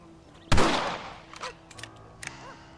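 A single loud rifle gunshot in Red Dead Redemption, sharp and close with a decaying tail, followed by a few quieter clicks and clacks.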